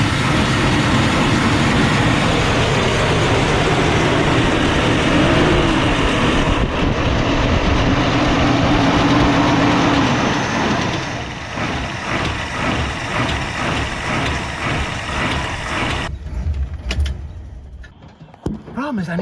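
Engine of an abandoned Plymouth Fury III, running after sitting 25 years, a loud steady rumble that drops in level partway through and carries a rhythmic lope, with talk over it.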